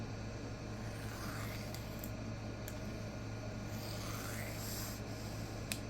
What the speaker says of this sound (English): You're going to have to make more deburring passes for sure.